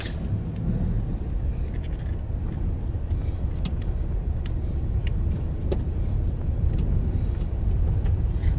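A 2016 Nissan NV350 Urvan van out on a test drive, heard as a loud, steady engine and road rumble that holds evenly from start to finish, with faint rattles and no talk.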